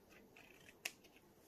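A single quick snip of scissors cutting a small piece of card, one short crisp click in a quiet room.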